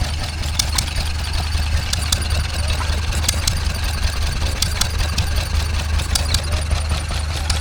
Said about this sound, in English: There's a water pump of some kind being powered by a Wolseley.